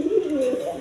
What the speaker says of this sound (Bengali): এখানে এক পেয়ার সিলভার কবুতর আছে। সিলভার গিরিবাস কবুতর বলে, সিলভার কবুতর।